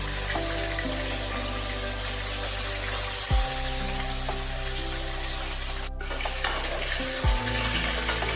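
Marinated chicken frying in hot oil, a loud continuous crackling sizzle with a low hum underneath and a faint clink partway through.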